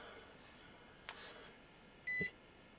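A Kaiweets digital multimeter switches on with a soft click, then gives one short, bright electronic beep. It is close and clear over quiet room hiss, with no talking.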